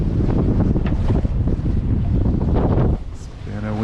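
Strong wind buffets a sailboat off the Mexican Pacific coast between Puerto Vallarta and Puerto Escondido, loud gusty roaring and flapping noise in irregular surges that drop away briefly near the end.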